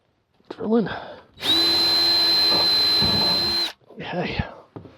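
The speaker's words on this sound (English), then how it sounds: "Drilling." A power drill whirs steadily for about two seconds at a high, even pitch, drilling a hole while installing an old RV propane furnace in a van, with brief bursts of talking just before and after.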